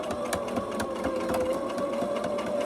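A sewing machine hums and clicks through a quilted, padded zipper tablet bag in a steady close run of stitches, fairly quiet and without speech.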